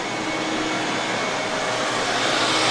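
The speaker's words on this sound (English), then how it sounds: "the main motivating factor was I feel like the blower isn't blowing hard enough" The HVAC blower fan of a Hummer H2 runs as a steady, close rushing whoosh, like a hair dryer, holding constant throughout with no speech.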